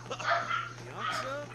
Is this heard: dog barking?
yes